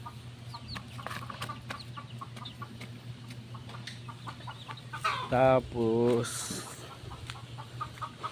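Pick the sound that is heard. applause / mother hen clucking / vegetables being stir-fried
mother hen clucking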